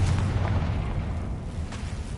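Confringo fire spell exploding in Hogwarts Legacy: a dense, rumbling blast with low booming energy that holds steady for about two seconds, close and fairly loud, with no voices over it.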